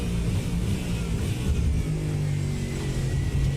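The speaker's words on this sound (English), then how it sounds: "So it's a decent noise to the engine, this Ford Mustang" Ford Mustang GT3 race car in an endurance racing video game at Barcelona, its engine droning and revving steadily at a loud, constant level with a low rumbling tone throughout.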